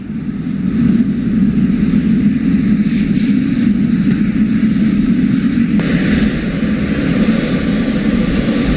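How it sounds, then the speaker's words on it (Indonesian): A steady, loud jet engine drone carries on throughout as the presidential aircraft lands at Halim Perdana Kusuma air base in Jakarta, with a slight shift in tone partway through. "Pesawat kepresidenan yang membawa Presiden Prabowo Subianto dan rombongan mendarat di pangkalan TNI Halim Perdana Kusuma"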